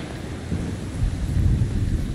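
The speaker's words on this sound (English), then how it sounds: "the rain's coming down even harder now" Rain and thunder in The Division 2: a steady hiss of rainfall with a low thunder rumble swelling in the second half, continuous and fairly loud.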